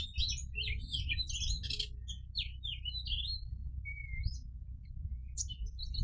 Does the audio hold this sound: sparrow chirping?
yes